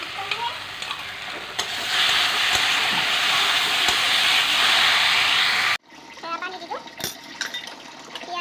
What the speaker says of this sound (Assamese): এতিয়া বইল কৰি লোৱা আলুখিনি ভাজি ল'ম